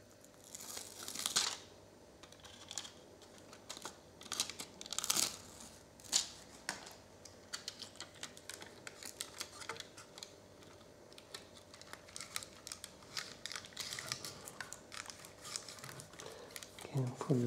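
EMI tape being torn and applied while modding a Wingsland Minivet GPS drone, heard as irregular sharp crackles, rips and small taps scattered at close range against a quiet background.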